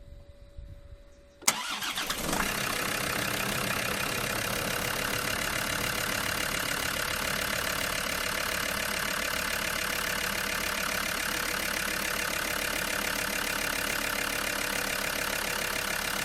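A Land Rover Discovery 2 TD5 diesel cranks, fires and settles into a steady, loud idle with a clattery diesel rumble that holds without a break after the start.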